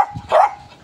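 A puppy gives a single short, high yip-like bark, close and fairly loud, alone in a brief moment without talk.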